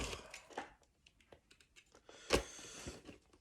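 A small utility knife cuts open the box of a Dragon Ball Z Bandai figure, giving a scattered run of light clicks and scrapes, one sharper snap near the end, close up and quiet, with no voices.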